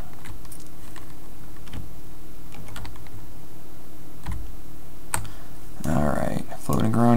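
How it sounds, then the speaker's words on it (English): Computer keyboard keys tapped repeatedly while playing Kerbal Space Program, steady close clicks through the clip with a couple of louder bursts near the end; no speech. "I'm not pushing too many keys."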